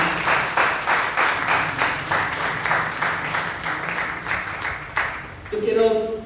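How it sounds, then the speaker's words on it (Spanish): A church congregation applauds during a Spanish-language service, a steady, rhythmic clapping that fills the room for several seconds before music enters near the end. "Dale un aplauso al Señor."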